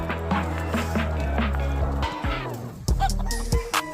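Geese in a bird yard honk in a burst of loud, overlapping calls that grow busier toward the end, heard close and with no voice over them.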